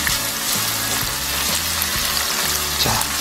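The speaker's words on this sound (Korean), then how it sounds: "간을 한다라기보다는 간장을 살짝 기름에 튀겨서 향을 내는 중식 요리 방법이에요" Soy sauce sizzles loudly in hot oil in a wok while making black-bean-sauce noodles, a steady crackling hiss with rhythmic scraping and clanking as the meat is stir-fried.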